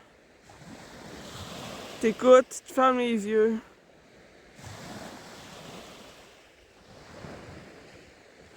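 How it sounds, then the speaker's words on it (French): Ocean waves roll in and wash out in slow swells with wind noise, and a voice speaks briefly between surges. "quand t'as aucun bruit comme là, t'entends juste les vagues"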